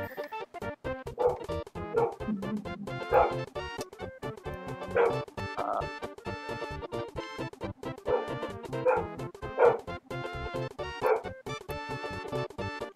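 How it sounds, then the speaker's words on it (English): A dog barks and yips repeatedly in short, irregular bursts, some whimpering tones mixed in, close and fairly loud against a busy background of steady tones. "Oh no, my dog is barking."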